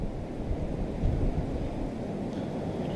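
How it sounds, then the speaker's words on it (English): Steady gusting wind buffets the microphone, a continuous low rumbling roar with no voices present. "It's getting real windy."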